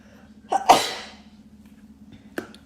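A single sharp human sneeze, close and loud, with a quick intake then an explosive burst fading out, followed by a brief smaller sound in a quiet room.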